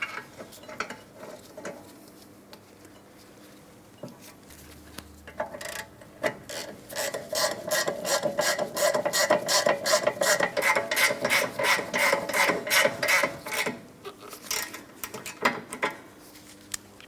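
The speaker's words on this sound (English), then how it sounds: "I'm going to start them both in, we'll bottom them out, and then torque them to 48 foot-pounds." A torque wrench ratchets brake caliper bracket bolts on a 2011-2026 Mitsubishi Outlander during rear brake work, a close run of rapid metallic clicks that starts sparse and builds into steady, dense ratcheting before slowing near the end.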